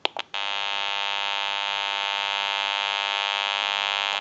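A loud steady electrical buzzing hum from the amplifier of a General Electric 27909 cordless telephone under repair starts after a couple of brief clicks and holds evenly for several seconds before cutting off.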